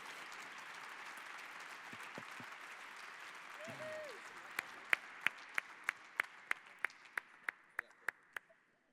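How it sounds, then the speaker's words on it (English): Audience clapping at a startup pitch day in Berlin, soft and distant under low murmur and a brief voice, then a run of about a dozen sharp, evenly spaced claps close by near the end. "can we give them one more big round of applause?"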